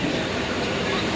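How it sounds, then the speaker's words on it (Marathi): A train in India around Thane, its dense rumbling roar steady and loud throughout a brief moment with no clear speech. "फायनली आम्हाला आमची ट्रेन भेटली"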